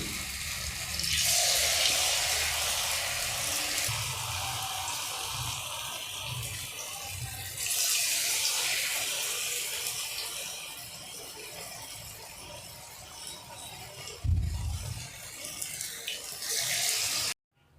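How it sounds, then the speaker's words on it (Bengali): Potato pakoras drop into hot refined oil in a kadai and sizzle with a loud, steady broadband hiss that swells in bursts and ends with a brief thud. "আমি রিফাইন তেল গরম করে নিয়েছি কড়াই। এরপর আমি এই পকোড়াগুলো ছাড়বো।"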